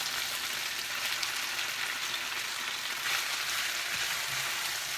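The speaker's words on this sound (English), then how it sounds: "we're going to add our vegetables to the stir fry" Vegetables hiss in a hot pan as they go into a General Tao stir fry, a steady, even sizzle with no voices, moderately quiet and unbroken throughout.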